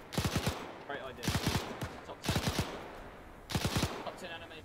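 Bursts of rapid automatic gunfire in a war video game set by a forest, four short volleys of several sharp shots each, loud and close, with voices chattering faintly between them.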